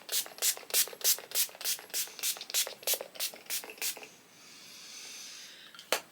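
Makeup setting spray misted onto the face in a rapid run of about a dozen short pump bursts, close and crisp, followed by a soft hiss and one final single spritz.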